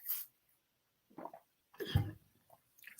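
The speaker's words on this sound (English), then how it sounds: "So this is a cough day today for me." A person gives a few short, sharp coughs and throat bursts with pauses between them, close to the microphone and fairly faint overall.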